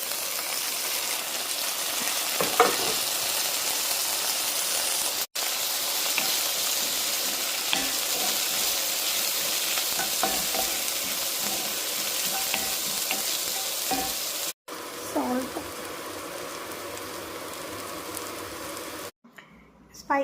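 Onion, ginger, garlic and small coconut pieces fry in a pan with a constant close sizzle and occasional stirring scrapes. Brief dropouts break the sound twice, and faint speech sits underneath.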